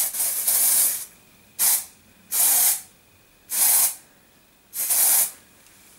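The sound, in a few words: spraying a synthetic wig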